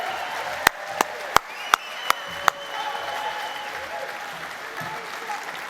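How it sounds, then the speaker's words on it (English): Enthusiastic audience applause at the APRA Silver Scroll Awards ceremony fills the room, with several sharp louder claps standing out early on, then steady clapping continuing at moderate volume. "give a really special round of applause"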